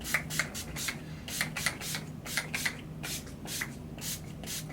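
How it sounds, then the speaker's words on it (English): Quick bursts of Urban Decay All Nighter makeup setting spray hiss repeatedly in uneven clusters, close and fairly soft, over a faint steady hum. "I'm just going to set everything with my Urban Decay All Nighter Makeup Setting Spray"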